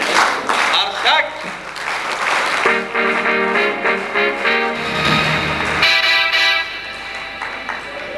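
Audience clapping for someone at an Uzbek gathering, steady and fairly loud throughout, with music-like tones and voices mixed in underneath.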